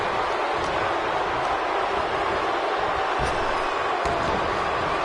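Wrestling slam impact and roaring arena crowd in the WWE 2K25 video game, a steady dense crowd roar throughout with a few sharp thuds breaking through, loud and continuous with no talk.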